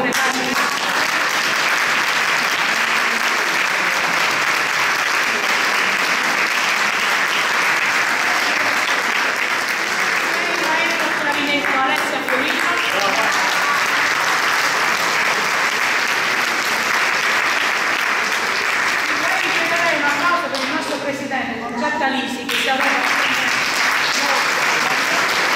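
Sustained, loud applause from a concert audience honouring the conductor of the Corale Città di Termoli choir at a December Christmas concert in Termoli, steady clapping filling the hall throughout with no break.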